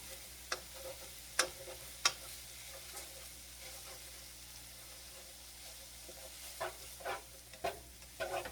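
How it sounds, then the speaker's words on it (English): Steady sizzling of pizza ring filling frying in a pan, with occasional stirring scrapes and soft ticks, close and continuous, no voices. "while that's frying a little bit"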